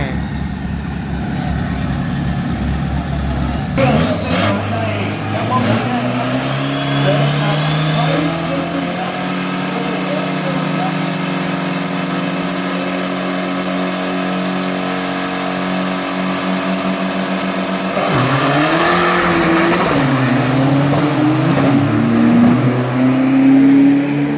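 Drag race cars accelerate hard at the Klong 14 track in Thailand, a loud engine roar climbing steadily in pitch and holding a sustained high wail before dropping back to a rumble, with an announcer talking over it.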